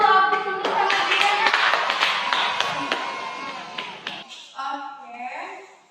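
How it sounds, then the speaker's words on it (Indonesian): A classroom of students bursts into applause, a dense run of clapping that thins out and fades over several seconds, with a few voices at the end. "Berikan dulu aplaus untuk Rahmatia."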